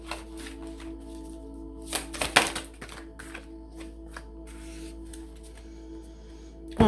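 Tarot cards are shuffled and drawn in a quiet room, giving soft papery riffles and light taps in short irregular bursts, faint and close.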